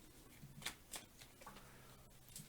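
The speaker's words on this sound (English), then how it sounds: "I always shuffle until I get a tingly sensation in my chest area" Tarot cards being shuffled by hand, a run of soft, quick riffling and slapping bursts close by, faint and alone without any talking.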